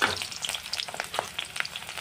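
Onions sizzle in hot oil in a wok over a gas flame, along with cumin and garlic, a close, crackly frying hiss with scattered sharp pops and stirring scrapes, and no voices.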